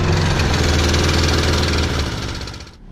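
A gasoline backpack leaf blower engine runs loud and close with a dense, rumbling roar, holding steady before easing down and cutting off near the end.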